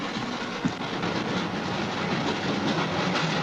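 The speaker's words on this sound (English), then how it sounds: "Nice model train." A train runs along the tracks in a horror film, a steady loud rumble with rhythmic clickety-clack and a hissing undertone, one sharp knock early on.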